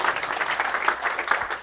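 Short, moderately faint patter of audience clapping at a Python programming talk, a small crowd applauding briefly on its own.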